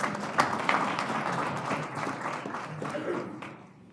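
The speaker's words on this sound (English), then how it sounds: "give an applause to this man." Applause from a conference audience, a moderate wash of many hands clapping with a few sharp claps standing out, fading gradually toward the end.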